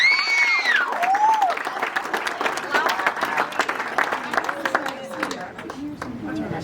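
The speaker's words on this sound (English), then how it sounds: "You can clap for that, yeah." Audience at a sports team banquet applauding, dense clapping with a whistle and cheers, steady then thinning slightly toward the end, with a voice speaking over it.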